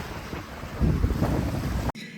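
A sailboat under full sail moves at about 7 knots with 14 knots of apparent wind. Loud wind roars across the microphone over the rush of water and surges in gusts, then cuts off abruptly near the end.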